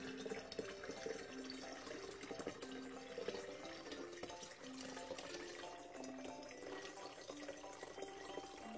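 A spiced gingerbread liqueur being poured through a small strainer into a jar, a faint, continuous trickle and splash of liquid with no voices.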